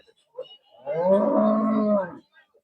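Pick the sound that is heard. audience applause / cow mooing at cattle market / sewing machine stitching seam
cow mooing at cattle market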